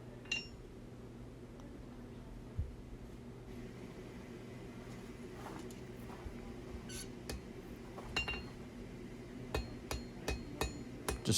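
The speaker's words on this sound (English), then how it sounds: "Just tap it a little bit" A hammer taps lightly on a hand-forged steel knife blade during blacksmithing, a few sharp metallic clinks spaced out and then coming quicker toward the end, heard over a steady low workshop hum.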